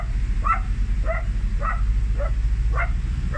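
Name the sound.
dogs barking agitatedly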